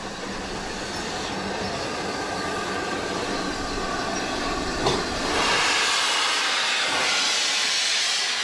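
Green Arrow, a V2 steam locomotive, runs with a loud, continuous hiss and rumble of steam and rolling wagons, steady throughout and with no voices.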